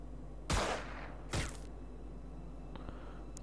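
Soldiers firing in the Xenonauts strategy game, two sharp shots or bursts with short decaying tails, then a fainter small burst, over a low steady background hum.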